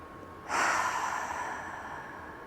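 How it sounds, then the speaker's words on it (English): One slow cleansing breath during a guided yoga session, a soft airy exhale that starts abruptly and gradually fades, heard close and alone. "Let's take 3 cleansing breaths, inhaling through the nose, exhaling through the mouth."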